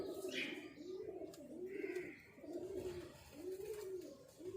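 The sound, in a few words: Saaf Bagga pigeons cooing in cage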